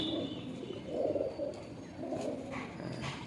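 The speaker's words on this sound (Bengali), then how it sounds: "খুব সুন্দর কোয়ালিটির পায়রা।" Pigeons in a loft, soft low coos repeating over a background hum and faint scattered chirps, fairly quiet.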